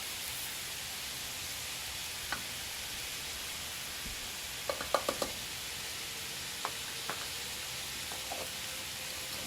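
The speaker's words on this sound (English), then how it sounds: "And just whisk that in." Grated Parmesan is whisked into a pot of simmering polenta, with scattered light taps and clusters of metallic knocks from the whisk over a low, soft hiss.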